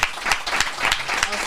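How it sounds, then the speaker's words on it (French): A live audience at a comedy show claps for Rémi, a short burst of fairly loud, close applause with some claps standing out and a slight dip midway. "Vous connaissez Rémi, on applaudit Rémi déjà."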